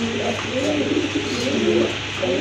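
A male fancy pigeon offered for sale calls with repeated low, rolling coos, close and fairly loud, over a steady background hum.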